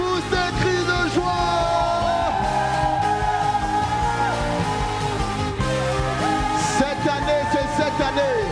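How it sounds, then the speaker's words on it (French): A church gala congregation yells and whoops with joy over loud continuous music, voices overlapping in a sustained roar with no pauses. "Pousse des cris de joie."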